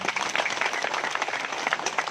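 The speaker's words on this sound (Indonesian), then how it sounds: "Tepuk tangan dulu buat Bapak Nadus." Audience applause at a parliamentary recess meeting with constituents in Southwest Sumba, a steady, dense round of clapping from a crowd that runs evenly throughout.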